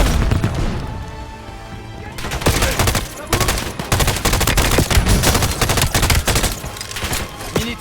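A frag grenade blast followed by heavy, rapid gunfire in Call of Duty Black Ops 7, loud and close, with dense overlapping shots continuing after the explosion.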